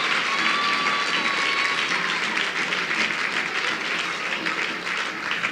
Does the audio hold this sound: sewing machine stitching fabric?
no